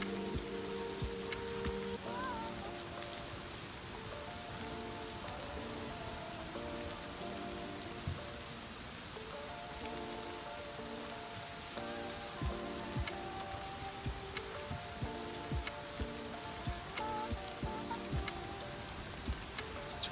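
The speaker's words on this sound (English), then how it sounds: "Rain is so loud." Steady rain falling on surfaces in the video game Rust, a continuous hiss with scattered droplet ticks, with faint tonal game sounds underneath and occasional sharper patters.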